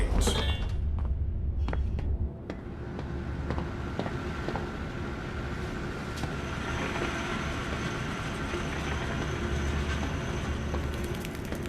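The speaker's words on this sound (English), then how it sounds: "Now activate the lever to lower the gadget trolley." Mechanical rumble and clatter of a gadget trolley lowered by lever in the Zoochosis zoo game, a steady rolling, rail-like drone with scattered clicks and a sharper knock near the start, continuing evenly throughout with no voices.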